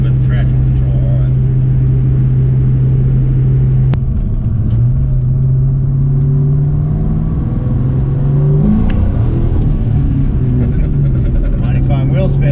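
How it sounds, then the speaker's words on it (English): A Ford Mustang Mach 1 spinning its wheels, with a steady low engine drone and tire roar that holds, dips, then rises into revving; people talk over it. "Mighty fine wheel spin you got there, buddy."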